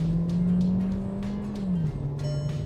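A Skoda Slavia 1.5 TSI sedan with automatic gearbox and paddle shifters holds second gear after a downshift, giving a steady, loud engine drone with a slight rise and dip in pitch, heard from inside the car.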